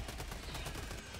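Gunfire from a submachine gun used against bugs in Hytale, a continuous fast rattle of shots, fairly quiet and steady throughout the short burst.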